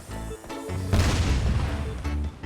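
A loud, booming grenade explosion erupts in the mobile shooter Project: BloodStrike, followed by a sustained rumbling blast with tonal game music underneath.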